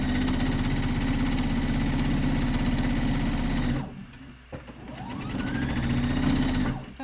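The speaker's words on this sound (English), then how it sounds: "So it's just sewing on the exact same line of stitching." A sewing machine stitches the crotch seam of lounge pants in a steady, fast mechanical hum that stops for a moment with a brief clatter, then runs again, close and loud.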